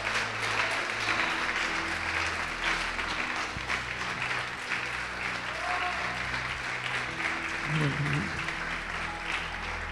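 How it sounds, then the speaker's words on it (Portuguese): A church congregation breaks into sustained, even applause that fills the room for about ten seconds, with faint voices mixed in. "Quem pode aplaudir o Senhor Jesus por isso?"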